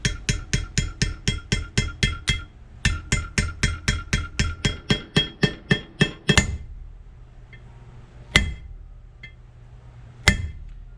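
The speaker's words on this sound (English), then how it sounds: "once you feel the hammer bounce back, then you know it's seated all the way down." Rapid metallic hammer taps in a steady rhythm, seating a sealed wheel bearing into a Rolls-Royce Phantom I hub: two long runs of evenly spaced strikes, then a pause and two louder isolated blows, close and ringing.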